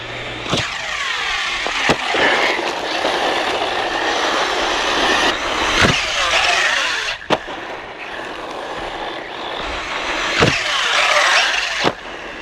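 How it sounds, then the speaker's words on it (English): An Arrma Typhon V4 RC car racing around with a buzzing, whining electric motor that rises and falls, punctuated by several sharp thuds and clatters as it hits a ramp and lands. "That just seems to be maybe settling the car before it hits a ramp."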